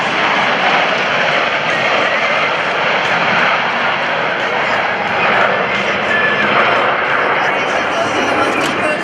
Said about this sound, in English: Blue Angels 5 and 6 are converging on center point to demonstrate the rapid roll rate of the FA-18's fly-by-wire flight control system